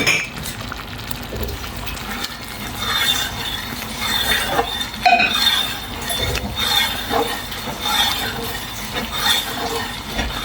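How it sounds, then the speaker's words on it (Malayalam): Thick jackfruit jam (chakka varatti) bubbles in a pot, producing a string of repeated soft pops and plops with faint clinking, steady and close, with no speech. "തിളക്കുന്ന സൗണ്ട് കേൾക്കല്ലേ."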